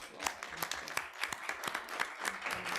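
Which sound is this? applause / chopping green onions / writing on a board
applause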